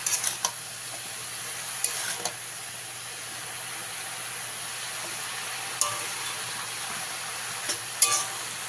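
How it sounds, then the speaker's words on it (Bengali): Pumpkin greens being stirred with salt in a pan give a soft, steady low sizzle, broken by a few brief scraping clinks of the utensil against the pan at irregular intervals. "লবণটা দিয়েও আমি এইভাবে ভালো করে মিশিয়ে দেবো।"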